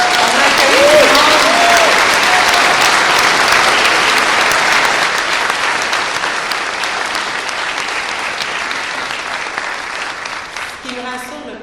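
Residents of Chicoutimi applaud at a community meeting about forest fires, a loud, dense crowd clapping that holds steady before slowly thinning out and fading toward the end.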